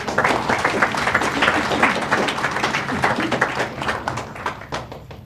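An audience applauds a group of students at a school board meeting, a dense, steady wash of many hands clapping that holds at an even level for several seconds and fades slightly toward the end.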